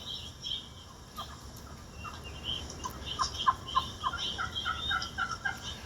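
Turkey hen yelping on a pot call: a short run of rhythmic, moderately loud yelps in the second half, with no talking.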